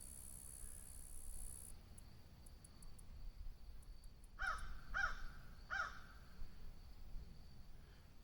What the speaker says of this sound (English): Here come the crows.